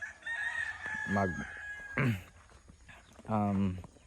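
Free-range chickens on a farm, with a rooster giving several crows in a row, each rising and falling, fairly close and loud over a steady outdoor background.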